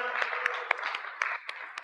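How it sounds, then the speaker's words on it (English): Scattered audience clapping for a newlywed couple, a brief patter of uneven individual claps over a murmuring crowd. "You all give them a round of applause really quick."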